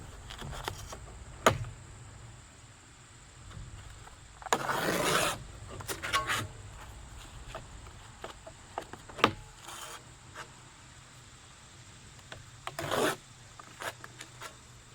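Sandpaper sheets, two at a time, torn against a fixed serrated blade, making short dry rasping rips, one longer burst midway and another near the end, with faint scraping and handling noises between.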